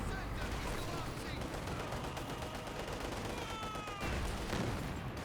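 A Panzerwerfer rocket artillery barrage in the strategy video game Company of Heroes 2: a faint, distant, continuous rumble of rapid rocket launches and impacts crackling together for several seconds.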